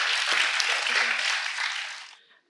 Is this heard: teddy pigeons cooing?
no